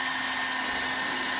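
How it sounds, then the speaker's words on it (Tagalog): A hot air blower runs in a steady, loud, unbroken whoosh while softening a thermoplastic bead cape for a Warhammer 40K Berzerker model, with no talking. "pwede nyong i-blower"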